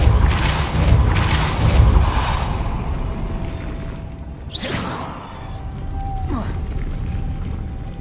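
A Depulso force spell is cast in Hogwarts Legacy: a booming whoosh and heavy impact up front, then whooshing magical sweeps and a thin ringing tone fading over several seconds.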